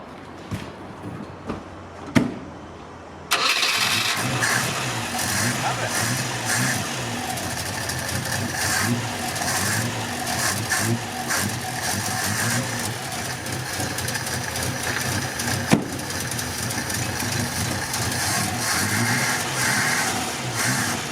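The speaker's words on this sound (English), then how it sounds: "We've put a little bit of fuel down the carburettor, so with a bit of luck, it can run." An old Ford 1200 engine, primed with fuel down the carburettor, cranks briefly a few times, then catches at about three seconds and settles into a loud, steady, slightly uneven idle that runs alone to the end.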